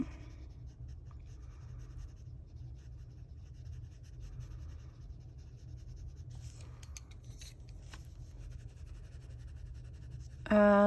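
Soucolor colored pencils scratch steadily across paper up close, a soft continuous rasping of coloring strokes over a low hum, with a brief louder noise at the very end.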